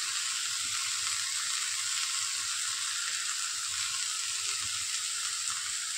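Shevla vegetable fries in a pan with a steady, even sizzle. The hiss is close and constant and runs alone, with no talking.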